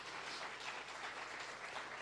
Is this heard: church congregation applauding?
yes